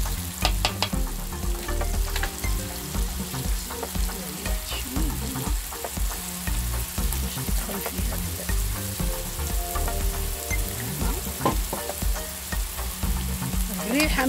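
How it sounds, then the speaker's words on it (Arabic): Garlic, onion and pepper fry in a pan with a dense, loud, continuous sizzle and crackle, punctuated by frequent clinks and scrapes of stirring, close up with no talking. "دابا غادي نقلي هذه مزيان شويه تقله"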